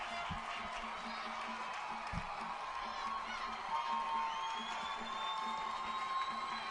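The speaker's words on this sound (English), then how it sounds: "And the crowd is on their feet right now." A large crowd at a high school boys soccer state championship cheers and whoops continuously, with scattered shouts and a few sharp thumps over the roar.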